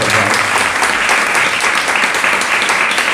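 An audience at a religious discourse in a village near Pune claps in loud, dense applause that holds steady throughout, with no pauses.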